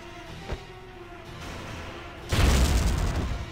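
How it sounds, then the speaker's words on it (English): A grenade explodes in the war game Valkyria Chronicles, starting with a small thump, then a heavy, rumbling blast in the last second that sustains under a low, steady hum. "can I like blast you out of this zone with a grenade?"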